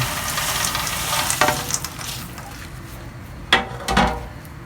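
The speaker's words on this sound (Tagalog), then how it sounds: "Itudo na natin. I-second fry natin. Low heat pa rin." Coated peanuts getting a second fry in oil over low heat, a soft steady sizzle punctuated by a few sharp clinks and scrapes of a utensil against the pan, no talking.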